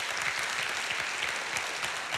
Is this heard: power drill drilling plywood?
no